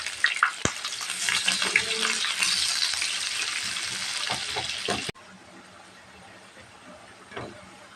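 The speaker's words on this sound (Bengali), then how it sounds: "এখন শুধু পেঁয়াজ আর রসুনটা দিব পেঁয়াজ আর শুকনো মরিচ" Onion and dried chili frying in hot oil, a steady broadband sizzle with stirring clatter for about five seconds, then cutting to a much quieter, fainter hiss.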